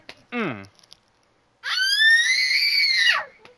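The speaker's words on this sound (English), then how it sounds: "Stop screaming like that." A person screams in a Call of Duty: Black Ops III session: a short, falling shriek, then after a pause a longer, loud, shrill sustained scream lasting over a second before cutting off.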